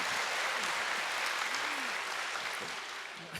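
A masterclass audience bursts into dense, sustained applause, loud at first and gradually tapering off near the end.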